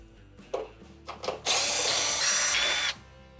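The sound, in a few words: power drill removing quarter-inch screws from stove panel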